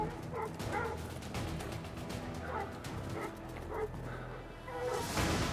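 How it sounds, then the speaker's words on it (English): Hunting hounds chasing a bobcat bark and yip repeatedly from across a mountain canyon, a busy overlapping chorus of several dogs at moderate distance, with occasional whimpering yelps. "I can hear these dogs just across the canyon here."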